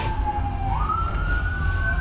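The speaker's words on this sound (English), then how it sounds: "Why is there freaking sirens every time we do an end video?" Emergency vehicle siren wailing outdoors, a single loud tone that sweeps upward and holds, steady over low traffic rumble.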